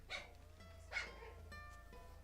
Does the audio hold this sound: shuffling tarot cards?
no